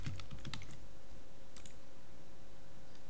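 Computer keyboard typing while writing code for a Unity 2D platformer, with a handful of faint, brief key clicks at the start and again near the middle over a steady background hiss.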